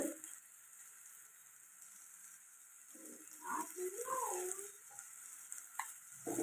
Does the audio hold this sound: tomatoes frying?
yes